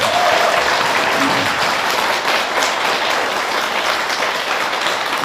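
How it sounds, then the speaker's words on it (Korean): A big round of applause fills a Buddhist dharma hall, dense and steady for several seconds from a crowd of temple devotees, close and loud with no voices over it. "다시 한번 큰 박수 한번 보내봅시다"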